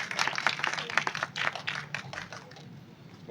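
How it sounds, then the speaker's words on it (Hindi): An audience at an evening event claps for a singer, a lively burst of many hands close by that thins and fades toward the end. "तो एक दफ़ा फिर यशरून के लिए भरपूर तालियां"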